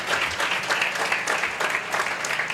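Dense, steady applause from a congregation at a church sermon, many hands clapping together at an even loudness throughout.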